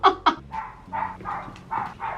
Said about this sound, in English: There's this dog outside, he about to get got.